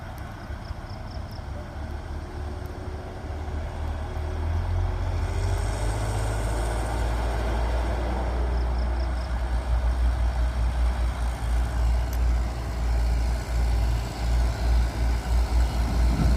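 Hino tanker truck engine labouring steadily in reverse down an uphill slope, a deep continuous rumble that swells louder after the first few seconds and holds at a strong, close level throughout.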